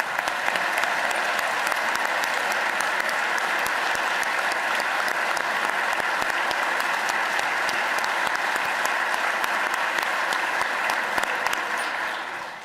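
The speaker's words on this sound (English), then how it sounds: "who clap for Haley" An audience applauds teacher Haley Sill at a Pennsylvania governor's budget address, a loud, sustained wash of clapping from a large crowd that runs steadily for many seconds before cutting off.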